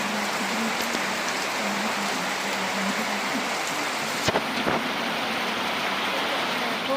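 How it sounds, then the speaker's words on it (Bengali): Heavy rain pours down outdoors near a papaya tree, a loud, dense, steady hiss of drops on surfaces with a couple of faint knocks partway through. "জোরে বৃষ্টি নেমে গেছে"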